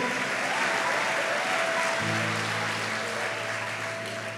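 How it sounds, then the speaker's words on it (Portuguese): A church congregation applauds during a sermon, steady broadband clapping throughout with a sustained organ or keyboard chord underneath that shifts halfway through. "Tô vendo você aplaudindo, hein?"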